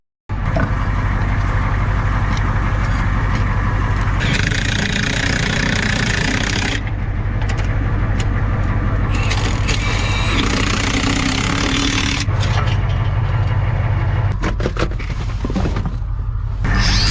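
A Ford 7.3 IDI diesel engine with its exhaust deleted roars loudly and continuously on a flatbed truck, its raw, gruff drone rising and falling in pitch as it is revved.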